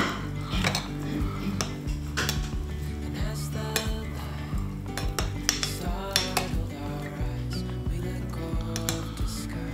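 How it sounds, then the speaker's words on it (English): Fermented hot sauce ingredients — garlic granules, peppercorns, onion and chilli — stirred in a container, with repeated clinks and scrapes of a utensil against the sides in an uneven rhythm, close and fairly loud. "Give it a right good old stir up in there."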